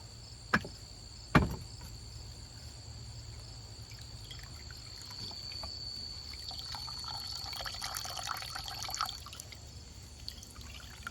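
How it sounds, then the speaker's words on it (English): Elderberry juice squeezed from a cheesecloth bag into a pot, opening with a couple of sharp knocks and then soft, faint trickling and dripping of liquid close by. "Now I'm just going to pull this out of here and squeeze the last of the juice out of it."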